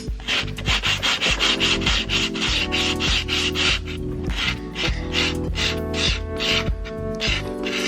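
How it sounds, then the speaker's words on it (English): Hand sanding the sides of a craft ribbon, a close, rhythmic rasping rub in quick back-and-forth strokes, steady and fairly loud, with no talk. "So now I'm going to sand some of this down on the sides."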